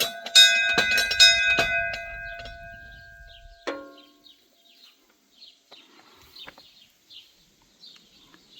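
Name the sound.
bell of the Saint-Barthélemy chapel rung by a pilgrim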